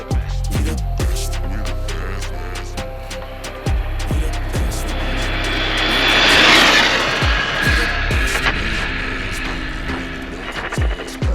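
A HoBao Hyper GTLE RC car on a track whines past from one side to the other, its motor rising to a loud, close peak and fading again, with sharp clicks and scrapes from the ground.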